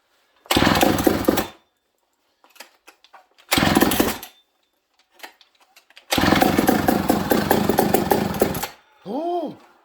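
A McCulloch 1-71 chainsaw engine, freshly rebuilt carburetor and run on a little choke, fires in loud raw bursts of about a second, then runs for nearly three seconds before cutting out, with excited talk in between.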